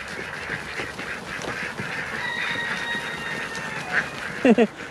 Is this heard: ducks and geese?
yes